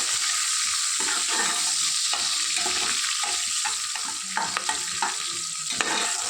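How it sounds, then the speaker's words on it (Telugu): Onion pieces sizzle and fry with whole spices in a pan, a steady bright hiss with occasional stirring scrapes and soft clicks, close and continuous with no talking. "ఇప్పుడు ఆనియన్ ముక్కలు వేసుకుందాం. ఇవి బాగా వేగాలి."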